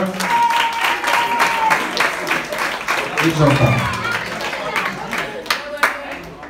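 An outdoor crowd at a Jeux des Îles flame ceremony applauds the young coaches with sustained clapping, a dense patter that swells and fades while an announcer's voice speaks over it.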